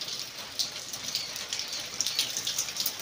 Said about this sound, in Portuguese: Começou a chover.